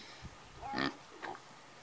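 Pigs on a farm give a few short, quiet grunts and snorts, with one longer squealing oink in the middle, close by against a hushed background.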